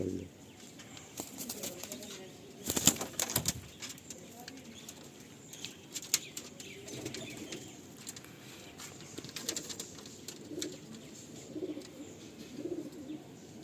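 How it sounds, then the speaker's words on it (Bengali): Pigeons in a full loft coo softly and now and then flap their wings, with a sudden burst of wingbeats near the start. Faint room noise sits underneath. "এই পায়রাটা একটা কলকাতা ফেমাস লাইন আছে"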